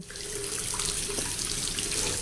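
Water runs steadily from a tap in a bathroom, a continuous close rushing stream with no voices over it.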